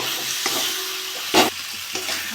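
Potatoes stir-fried in spiced mustard-oil masala in a pan sizzle steadily near the mic, broken by a few sharp scraping strokes of the spatula, one louder clatter midway, with no talking.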